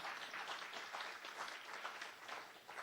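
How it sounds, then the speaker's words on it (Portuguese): Steady applause from a church congregation, dense and sustained clapping throughout with no pauses. "Aplauda mais forte ao Senhor Jesus"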